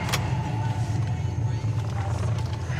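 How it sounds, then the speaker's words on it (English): Heater fan running inside a 1965 Pontiac GTO, a steady low whirring hum close by that holds constant for the whole stretch, with faint background talk. "Here's our heater fan. We'll start with that. Works great."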